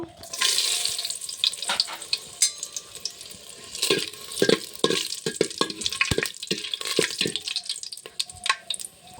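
Dried red chillies and bay leaves spit and crackle in hot oil, with irregular sharp pops and clicks over a steady hiss, joined by stirring scrapes and some running-water sounds nearby.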